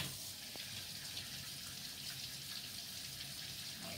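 A kitchen faucet runs steadily into a sink while hands are washed beneath it, a constant close splashing hiss with no talk.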